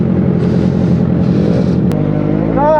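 Motorcycle and scooter engines idle and rev in a beach resort parking area, a loud continuous rumble with a brief sharp click and a rising rev near the end.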